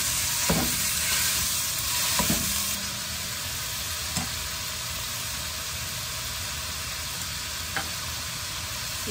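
Zucchini lasagna filling browning in a pan, a continuous broadband sizzle with a few light clinks and stirs, steady and fairly close, with no talk.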